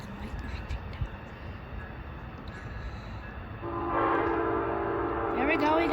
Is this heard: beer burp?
no